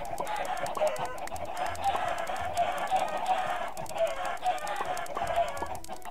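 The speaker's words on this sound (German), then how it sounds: "Schlacht ihr gerade die ganzen Hühner ab." Many chickens cluck continuously in a Minecraft game, a dense, busy flock chorus with a steady rhythmic clicking layered over it, fairly loud throughout.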